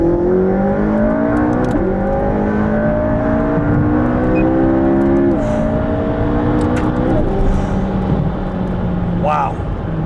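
A McLaren 675LT supercar accelerates hard on track, its engine note climbing loud and close through several upshifts. The revs rise, drop briefly at each change, then build again, with voices under the engine.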